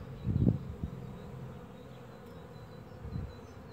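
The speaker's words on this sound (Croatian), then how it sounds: "Evo ih pčele u martu." Healthy honeybee colonies in March buzz in a low, steady drone, with a few louder swells as bees pass close by.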